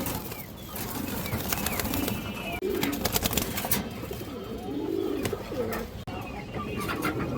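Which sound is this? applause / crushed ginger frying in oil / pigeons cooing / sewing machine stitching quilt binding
pigeons cooing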